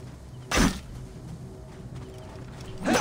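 Two isolated heavy thuds of horse hooves in the video game Assassin's Creed Origins, spaced a couple of seconds apart, over a low steady ambient background.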